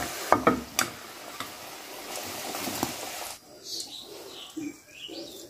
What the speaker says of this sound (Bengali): এখন আমি লবণ দিয়ে মাখানো আলুগুলো ভেজে নেব।